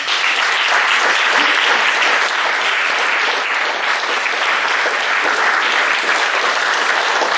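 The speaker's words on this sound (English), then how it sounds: "please stand up to a big round of applause" Steady, dense applause from an audience at a recognition banquet hypnosis show fills the whole stretch at an even level, cheering the four participants as they stand.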